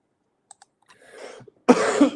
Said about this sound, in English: I need to cough a lot, so I'll be right back.